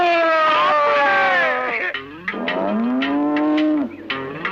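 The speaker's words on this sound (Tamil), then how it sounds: "அது யானை இல்ல, எருமை" A water buffalo lets out long, loud, drawn-out moos, two extended bellowing calls close by that rise and waver in pitch.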